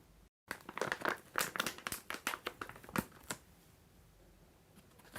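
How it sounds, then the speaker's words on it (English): A cooling bandage is crinkled and pressed back into its foil packet, giving a run of close, irregular rustling and crackling bursts that taper off into quieter handling. "you can roll the bandage back up and reseal it in the foil"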